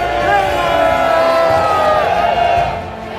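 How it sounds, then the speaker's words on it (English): A large crowd at a Tommy Robinson march rally in Trafalgar Square cheers and whoops, a loud dense roar of many voices that holds steady and then eases off at the end. "giving a lot of cheers, a lot of waves"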